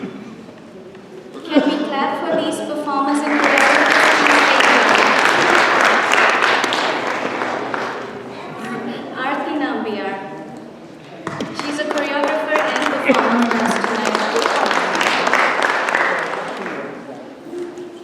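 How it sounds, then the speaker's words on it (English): Audience applause for performers and choreographers at a Diwali celebration in the Rhode Island State House, sustained clapping in two long bursts with a short lull between, mixed with a voice and crowd noise. "can we clap for these performers and choreographers?"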